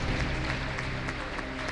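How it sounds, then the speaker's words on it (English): Audience applause at a school debate competition, a brief, dense crowd clapping heard at some distance, steady and moderately quiet for under two seconds. "A round of applause for them."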